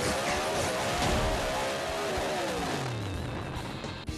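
Formula Vee race cars circling the Eastern Creek circuit in Australia in 2006, engines droning and revving with shifting pitch as they pass, one engine tone sweeping downward near the end, loud and continuous.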